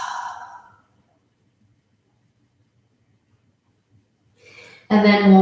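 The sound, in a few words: audible exhale during yoga breathing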